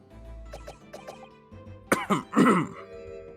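A witness character coughs and clears his throat in the Great Ace Attorney Chronicles game, a few short throaty bursts after quieter tonal game sounds, close and fairly loud.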